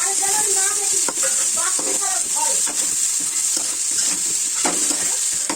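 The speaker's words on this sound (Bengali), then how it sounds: "পেঁয়াজটাকে এর সাথে লাল লাল করেই ভেজে নিতে হবে" Chopped onions fry in oil alongside browning potatoes, giving a continuous crackling sizzle broken by repeated scraping stirs in the pan.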